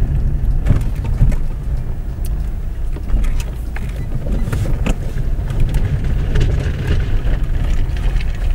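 A Lada Vesta with a 1.6 engine rumbles over rough off-road ground, a loud steady drone of engine and tyre noise with bumps, thumps and wind buffeting close to the microphone.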